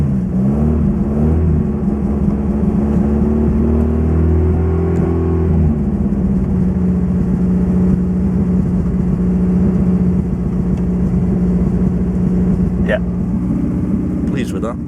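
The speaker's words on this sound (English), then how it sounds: "So now I'm operating it with the throttle pedal, and it's not over revving" A Lotus Excel car engine revs steadily under throttle pedal control at a fairly loud level, rising and settling in pitch, with a brief higher whine near the end.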